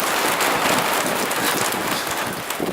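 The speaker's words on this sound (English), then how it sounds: "It's raining a little bit." Rain falls steadily at the edge of a storm, a dense continuous hiss of drops with some wind buffeting the microphone, close and fairly loud.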